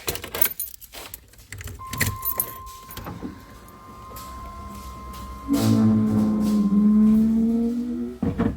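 Keys jangling close by in the ignition of a 1992 Camaro RS, followed by a steady electronic tone and then a motor whirring, ending with another clink of keys.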